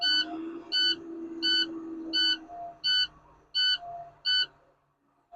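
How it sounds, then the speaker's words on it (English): A truck cab's low air pressure warning alarm sounds as the primary and secondary air tanks drop to 65 psi: seven loud, evenly spaced electronic beeps ring out over a faint low hum, with no talking. "our light and alarm has went off on our primary and our secondary tank at 65 psi"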